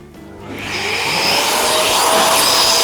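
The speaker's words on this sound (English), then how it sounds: "I'll just turn the vacuum on." A vacuum motor starts up in a car bodywork shop and rises to a loud, steady whooshing roar, close by and running on its own.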